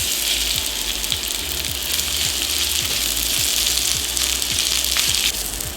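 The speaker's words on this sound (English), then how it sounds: "On a high heat, we want a little drizzle of olive oil." Slivered white onion sautéing in olive oil over high heat, a loud, steady sizzle with faint periodic scrapes of stirring running through it, no voices.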